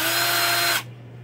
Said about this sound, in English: apply the drill bit just like this